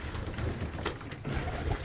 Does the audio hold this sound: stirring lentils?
no